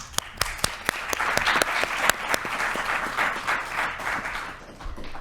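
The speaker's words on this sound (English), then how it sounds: "Please, a round of applause for Aldo." An audience at a panel on African arts and culture claps for a panelist, a dense, steady round of applause with sharp individual claps standing out near the front, holding for about five seconds with no talk.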